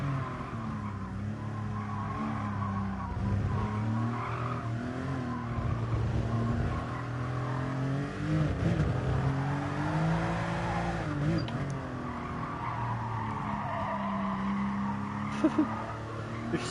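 Racing game car with engine droning and tires squealing as it brakes hard into a corner during a time trial, continuous and loud, with brief sharper squeals near the end.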